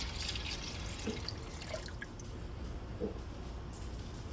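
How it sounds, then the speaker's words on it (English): Goat milk pours steadily into a warmed, unplugged crock pot, making a faint continuous liquid splash with a few soft drips, close and quiet. "I'm gonna pour this milk into our warmed but turned off and unplugged crock pot"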